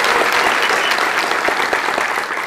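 A church audience applauds loudly and continuously, a dense close wash of clapping hands with no pauses.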